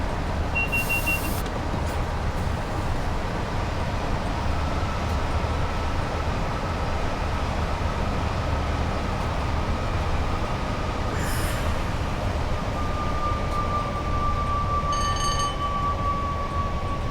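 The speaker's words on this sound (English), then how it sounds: "There's a train at Oxenholme." A Class 86 electric locomotive in the Just Trains simulator runs along the West Coast Main Line between Preston and Carlisle near Oxenholme. It gives a steady, loud rolling rumble throughout, with a few brief higher squeals and a faint sustained tone.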